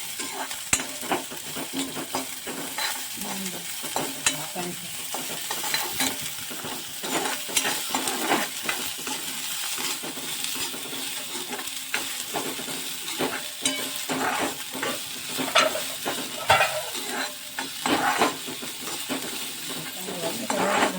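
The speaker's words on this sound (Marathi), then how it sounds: "कांदा टाकायचं जरासं." Onions fry in a pan for a traditional village-style churna vegetable dish, sizzling steadily while a spoon scrapes and stirs them in irregular clattering strokes, close and moderately loud throughout.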